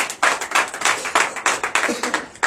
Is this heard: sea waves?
no